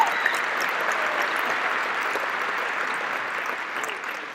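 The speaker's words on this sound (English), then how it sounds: "give a big round of applause for her" A seated audience at a trading seminar applauds steadily for several seconds, a dense, even patter of many hands at moderate volume.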